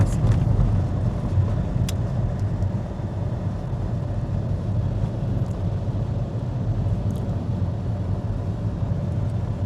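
A car descends the winding Doi Suthep mountain road in Thailand at around 40–60 km/h, its engine and road rumble forming a steady, fairly loud drone throughout with no speech.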